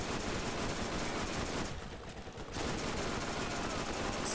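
An SMG with a twisted barrel fires in the Borderlands video game, a dense continuous burst of rapid shots that briefly drops off midway before resuming at full loudness.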